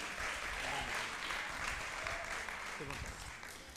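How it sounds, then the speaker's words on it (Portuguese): A church congregation applauds the life of Pastor Carvalho Júnior with sustained, dense clapping at moderate distance, and faint voices surface briefly near the end. "Uma salva de palmas pela vida do pastor Carvalho Júnior."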